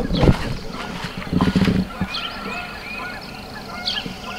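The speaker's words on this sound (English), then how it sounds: "I don't know if you guys can hear that or not, but there's some Canadian geese." Canada geese honking at a moderate distance outdoors, just beyond a fence, several scattered calls over low background rumble and a few handling thumps.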